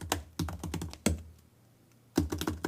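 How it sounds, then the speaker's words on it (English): Typing on a computer keyboard picked up by an Elgato Wave:1 microphone during a live test: bursts of quick, crisp key clicks, a pause with faint residue, then another flurry, close and fairly loud with no talking. "I'm gonna go back to the computer and start typing."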